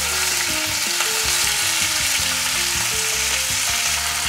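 Choy sum hits hot oil in a pan and sizzles loudly and steadily, a dense close frying hiss with light clatter of stirring running the whole way through.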